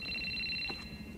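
A telephone rings steadily in a film scene from The Batman (2022), its electronic tone sustained over a low background rumble, with no talking.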